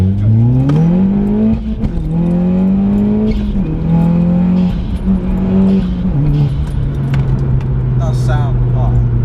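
A Stage 2-tuned Audi S1, a light four-wheel-drive hatchback, is driven hard. The loud engine note climbs steadily through the revs and drops at each gear change, repeating over several pulls.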